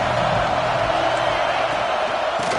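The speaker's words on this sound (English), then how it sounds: "Here comes the noise from this big crowd in Happy Valley on 3rd down" A big football crowd in Happy Valley roars on third down, a loud, sustained wall of cheering and noise that fills the clip.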